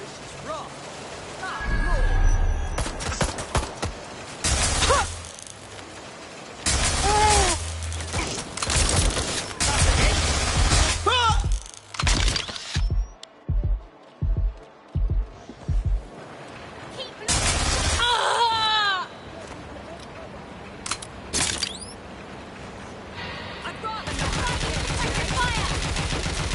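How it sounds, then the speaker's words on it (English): Heavy exchanges of gunfire in the Watch Dogs Legion video game: long automatic bursts and scattered single shots, with rhythmic pauses midway, mixed with voices and shattering debris. "I'm taking fire!"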